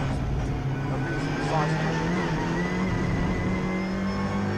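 A Ford Fiesta EcoBoost race car, the race leader, runs past on the Oulton Park circuit in the Britcar Trophy with a sustained, loud engine drone that shifts slightly in pitch as it goes by, with faint voices underneath.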